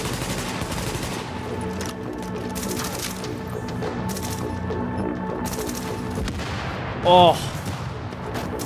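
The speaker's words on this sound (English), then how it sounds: "That's when I shoot without looking." Automatic gunfire in The Division rattles continuously beneath a dense layer of game noise, with a brief spoken exclamation and a short higher-pitched effect near the end.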